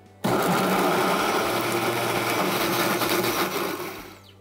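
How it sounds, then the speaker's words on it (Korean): Blender grinding rice with a little water for kkakdugi radish kimchi: a loud, steady whirring motor roar that starts abruptly and runs continuously, then winds down at the end. "뚜껑 닫고 갈아 보겠습니다"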